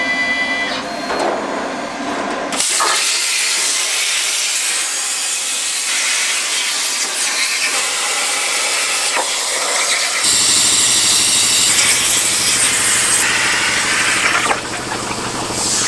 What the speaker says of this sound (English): So this thin aluminum is the exact example as to why with one of these CNC plasmas, you want a decent automatic torch height control.